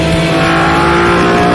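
A BMW E46 M3 CSL's straight-six engine roars loudly and steadily under hard acceleration, recorded close and alone, with no voices.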